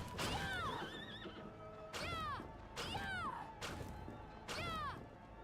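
Horse neighing in the video game Bloodstained, four loud whinnies in a steady rhythm, each a bright descending squeal with a blaring onset, close and alone.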